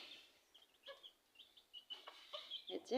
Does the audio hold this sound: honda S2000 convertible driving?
no